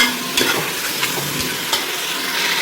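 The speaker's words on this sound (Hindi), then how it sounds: "मटन को थोड़ा सा फ्राई करेंगे, इसके कलर के चेंज होने तक फ्राई करेंगे इसको।" Mutton pieces sizzling and frying in a hot pan, with a steady broadband hiss and occasional scraping stirs from a spoon, close and fairly loud with no talking.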